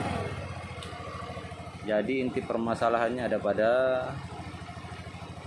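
Honda Beat FI scooter engine idling nearby in a repair setting, a steady low putter running the whole time while someone talks over it.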